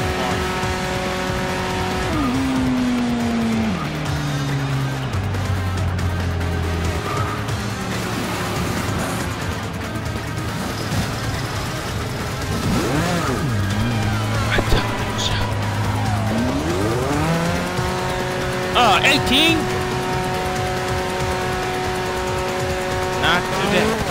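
Race cars in the Forza 6 racing game roar and shift through gears with repeated engine pitch sweeps and tire squeals, a steady loud drone throughout with a voice talking over it at times.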